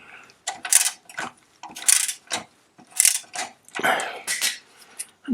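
A ratchet wrench working a suspension bolt on a Citroën 2CV, with repeated rhythmic clicking bursts in roughly one-second cycles, close and clear with no talk.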